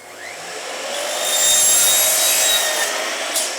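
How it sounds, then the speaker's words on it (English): A miter saw slices through 4-inch pipe in one continuous loud, rasping cut that swells over a few seconds and then eases off, heard close and alone. "You get a really nice clean cut on the miter saw with 4-inch pipes."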